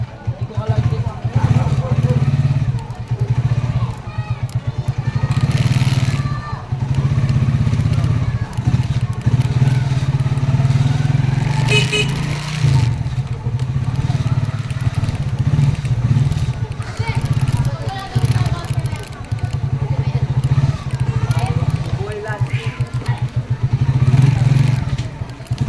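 A heavy all-steel motorcycle idles with a steady, deep rumble that runs throughout, close and loud, while people talk over it.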